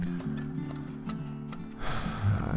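Horse hooves clip-clopping in the game Turmoil, a light, steady trotting rhythm over a low droning background tone, with a brief louder rumble near the end.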